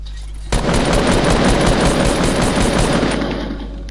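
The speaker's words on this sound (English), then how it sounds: "So I'll just shoot it down." Rapid, sustained automatic gunfire from a video game erupts abruptly and rattles on loudly for over three seconds, steady and dense, with no talk over it.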